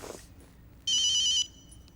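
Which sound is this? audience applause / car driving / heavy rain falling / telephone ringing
telephone ringing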